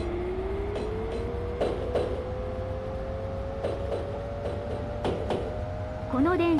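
An electric Yamanote Line E231-500 series train in the Densha de GO! video game runs with a rising motor whine and periodic rail clunks, and a voice comes in at the very end.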